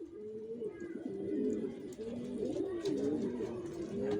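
Racing pigeons of a Johnson racer line coo in low, rolling, overlapping calls, close by and continuous, with faint background noise.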